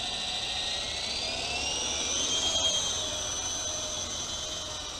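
A UDI U12A toy helicopter flies nearby, its small rotor and motor giving a steady high-pitched whine that swells and dips in pitch, with no talking.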